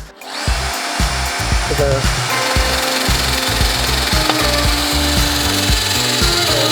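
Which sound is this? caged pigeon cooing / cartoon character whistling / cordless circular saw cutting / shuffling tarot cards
cordless circular saw cutting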